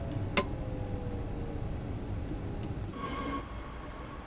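Simulated ÖBB 4024 Talent 1 electric multiple unit running near Salzburg in a train simulator game, a steady low rumble of rolling wheels and motor with a sharp brief click early on and a faint tonal whine later.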